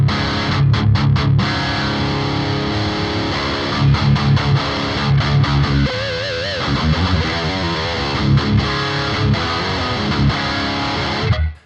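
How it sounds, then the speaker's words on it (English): Heavily distorted electric guitar through an amp, pushed by an overdrive boost on a BOSS GT-1000, playing loud, tight palm-muted chugs and sustained chords with a trimmed low end, steady and dense throughout before cutting off. "it boosts the distortion on the amp, but it also tightens up the low end"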